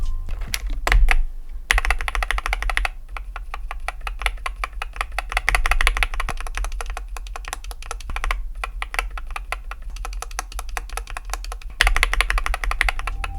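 Mechanical keyboard switches on a KBDFans Tiger Lite being typed on, rapid close clacking keystrokes in steady runs with brief pauses.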